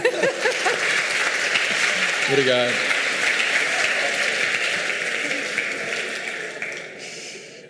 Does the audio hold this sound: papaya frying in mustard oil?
no